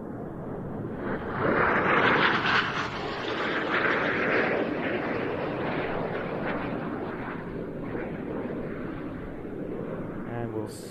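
Two Patrouille Suisse jets run in for a mirror pass at an air show, a loud roaring sweep that builds quickly, peaks early and then trails off into a long fading rumble.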